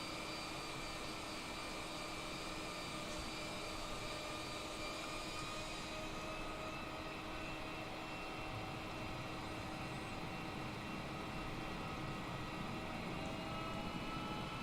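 Aircraft engine drone during a hand-flown landing in Microsoft Flight Simulator 2020, a steady, faint, even hum and hiss holding without break from start to finish.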